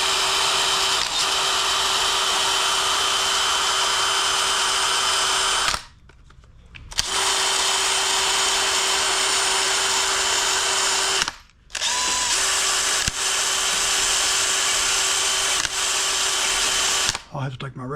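Loud, steady high-pitched hiss of compressed air blowing debris off a Craftsman DLT3000 riding mower engine near the valve cover, running in long bursts with two short pauses and a brief break near the end.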